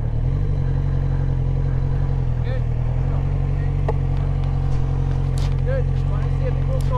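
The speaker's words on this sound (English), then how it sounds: "Ride the bike." A motorcycle ridden during Mod 1 training manoeuvres gives a steady, low engine drone with little change in pitch, continuous for the whole stretch and mingled with faint background voices.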